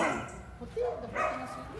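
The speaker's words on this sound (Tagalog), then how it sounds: "bakit itong ano, aso, iyak ng iyak?" A dog cries and barks nearby in short whimpering yelps and a few barks, mixed with people talking close by.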